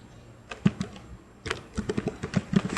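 Typing on a computer keyboard, with bursts of quick, close key clicks in an irregular rhythm and a short pause between runs; no talking over it.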